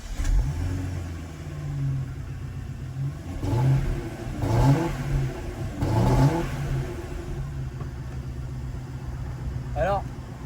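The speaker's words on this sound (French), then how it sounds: "c'est quand même vous faire écouter ce bon V8." A supercharged V8 car engine idles nearby, then revs three times in quick succession, each blip rising and falling, before settling back to a steady idle; someone talks over the engine.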